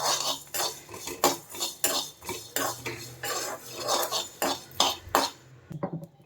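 Peanuts roasting in a pan, stirred with a metal spoon in a steady run of close, loud scraping and clattering strokes about twice a second, stopping near the end.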